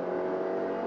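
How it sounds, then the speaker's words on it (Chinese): A 2020 Subaru XV GT Edition with a 2.0-litre naturally aspirated boxer engine and CVT accelerates on a highway. The engine gives a steady, droning hum under hard throttle through the whole short moment. "那先过一个头过后，我们来做一个简单的这个加速测试好了。"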